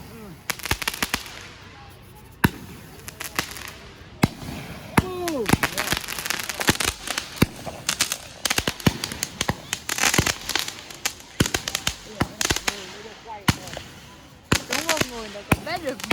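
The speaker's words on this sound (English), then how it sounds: "That guy tried to light his firework," Big fireworks bursting outdoors at a public display, with repeated sharp cracks and booms in an irregular barrage, some whistling rises between blasts, crowd voices and talk underneath throughout.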